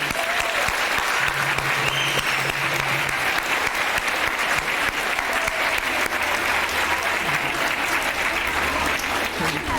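An audience at an Orange Shirt Day ceremony at Camosun College applauds the children, a long, dense, steady roar of clapping with murmuring crowd voices underneath throughout nearly ten seconds.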